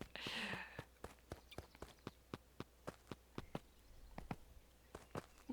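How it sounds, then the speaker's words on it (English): Luca jumping and stepping in the video game Beacon Pines: a steady run of short, crisp footfall taps, roughly two per second, mid-close, after a brief louder burst of sound at the start. "We jumped around because Luca's jump is really satisfying."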